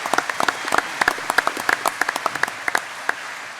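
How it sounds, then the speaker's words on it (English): Audience at a Young Farmer of the Year awards night applauds the competitors with scattered, distinct claps from a modest crowd, fairly close and steady for a few seconds before thinning out. "A round of applause for the competitors."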